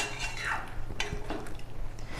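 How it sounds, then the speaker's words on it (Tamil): A spoon scrapes and clinks against a cooking pot of white pumpkin kuzhambu, with short stirring strokes and light metallic taps repeating close up through the two seconds. "இப்போ நல்லா குழம்பு கிண்டி விடுங்க தண்ணி ஊற்றுனதுக்கப்புறம்"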